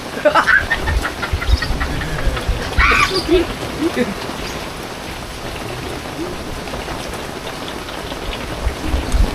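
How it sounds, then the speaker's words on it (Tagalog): Heavy rain pours down steadily, a dense broadband wash with scattered louder splashes and faint voices in the background. "Ang lakas ng ulan."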